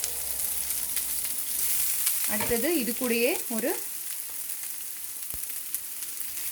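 Finely chopped shallots sizzle and crackle steadily in a hot pan, a continuous frying hiss while a person speaks briefly over it.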